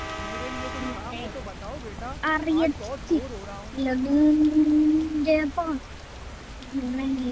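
Steady video game rain hisses in the background while a person talks over it in several close, loud stretches.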